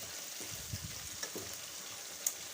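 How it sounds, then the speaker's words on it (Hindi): Tomatoes and chicken frying in a karahi, a soft, steady sizzle with a few light scraping knocks as they are stirred. "अब इसको हम अच्छे से मिक्स कर देंगे और अच्छी सी भुनाई करनी है हमने"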